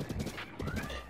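Horse hooves clip-clop and a horse whinnies in the video game Breath of the Wild, the steady gait close and loud with game music and effects around it.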